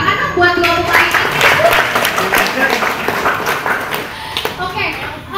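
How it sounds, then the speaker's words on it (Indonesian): An audience claps for two players, a dense patter of hand claps with voices talking and calling over it throughout. "Tepuk tangan dong buat dua pemain ini"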